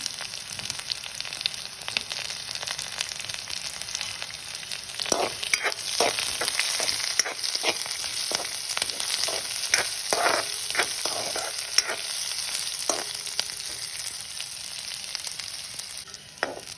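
Onions and curry leaves sauté in a pan for a traditional fish curry, a steady close sizzle with scattered scraping and clicking from stirring, no voices.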